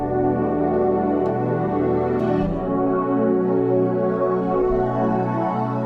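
A sustained string synth pad preset from Analog Lab plays chords with rich harmonic layers, shifting to a new chord partway through, loud and alone with no talking.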